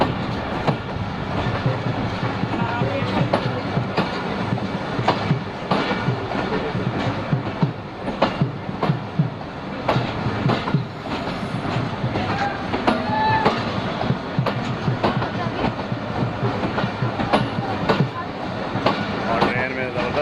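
The Bahauddin Zakriya Express passenger train runs steadily on its rails, with a continuous rumble and rhythmic clickety-clack of the wheels throughout. People talk over the train noise inside a crowded coach.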